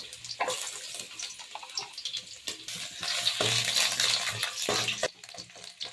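Mustard seeds, fenugreek and ginger fry in a pan for moru curry, heard as a close, uneven crackle with wet scraping and clinks from a spoon stirring, swelling louder midway, with no speech.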